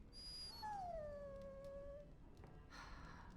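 A dog whines and howls in Dragon Age: Origins, one long drawn-out wavering cry with a softer whimper at the end, clear and alone with no talk.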